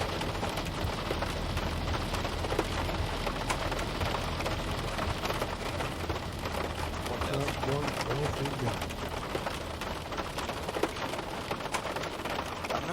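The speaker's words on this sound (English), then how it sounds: "I'm not sure how to get the rain to shut up." Steady rain patter on the cockpit of a Zibo Mod 737 in the X-Plane flight simulator during bad weather at Porto, a dense continuous hiss that runs loud and unbroken throughout.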